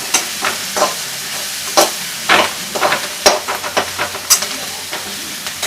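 Onions and tomatoes for a South Indian tomato curry fry in a pan, an irregular series of sharp spatula scrapes and stirs over a bright sizzle, close and fairly loud.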